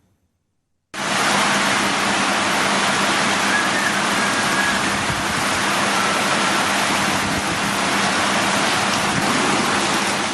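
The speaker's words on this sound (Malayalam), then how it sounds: "മഴ ശക്തമാവുകയാണ്." Heavy monsoon rain pours steadily during a red alert in Kerala's Idukki, Wayanad and Malappuram districts, a dense, constant roar that starts abruptly after a second of silence and stays loud throughout.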